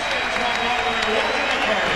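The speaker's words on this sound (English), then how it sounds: "Paul Pierce acknowledging the crowd" Home crowd at a Celtics–Pacers 2003 playoff game applauding Paul Pierce late in the fourth quarter, a dense, sustained wash of clapping and cheering across the arena, with a commentator's voice over it.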